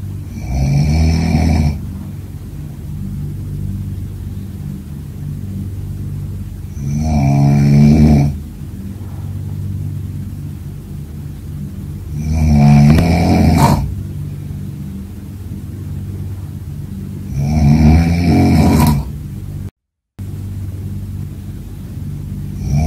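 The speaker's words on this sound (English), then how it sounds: "he snored like a jet engine" A man snores loudly and close by in China, four deep rumbling snores spaced several seconds apart with quieter breathing in between.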